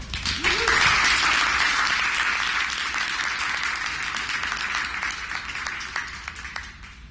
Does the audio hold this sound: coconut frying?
no